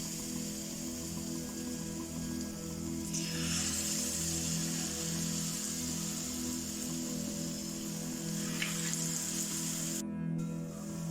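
Banana fritters (pazham pori) frying in hot oil, with a steady, even sizzle that runs the whole time at moderate loudness and swells briefly as battered pieces go in.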